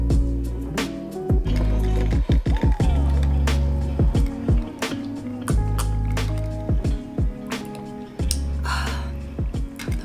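Cold brew iced coffee and a splash of oat milk are poured over ice, giving a loud, near run of liquid glugs, drips and clinking ice in irregular bursts.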